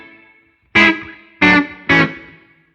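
Three struck guitar chords through a room reverb effect, each a loud attack followed by a short, roomy decaying tail, with silence before the first.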